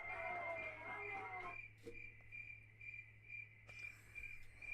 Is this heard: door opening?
no